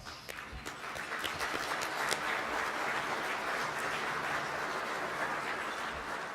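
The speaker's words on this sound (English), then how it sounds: "the board of directors deserves a huge round of applause" Applause from a luncheon audience honoring a board of directors: sustained, evenly textured clapping from many hands in a large room, rising slightly then holding steady and fairly soft throughout.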